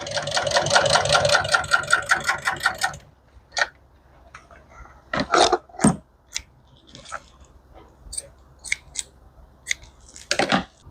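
An industrial sewing machine stitching upholstery runs in a fast steady mechanical chatter for about three seconds, then stops, followed by scattered clicks and handling knocks from the machine.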